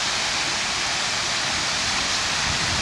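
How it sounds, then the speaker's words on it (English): An artificial backyard waterfall with rain-style and sheet-style water features, giving a loud, steady, close rushing roar of falling water with no pauses. "The one on the left is what we call rain. The one on the right is called sheet."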